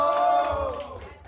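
Club audience at a Gramophone freestyle rap battle cheering for battle rapper Extazy, a short burst of mixed shouts and whoops that fades quickly, fairly faint and thin.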